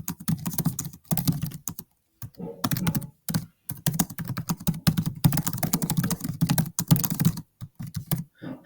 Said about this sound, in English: And I can type.